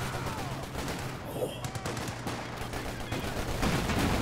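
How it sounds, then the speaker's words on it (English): Light machine gun fire from Company of Heroes 2, a dense, continuous crackle of bursts mixed into a busy battlefield soundscape with distant explosions, steady and fairly loud throughout. "LMG's firing!"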